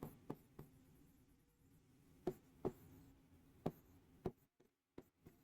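Marker or chalk taps and short strokes on a board during a chemistry lecture on polymers, faint, sparse clicks spaced irregularly against a quiet room hum.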